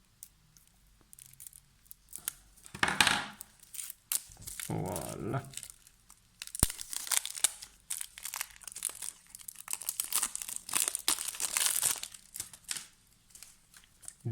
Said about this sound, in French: on ouvre un paquet sans trop abîmer les cartes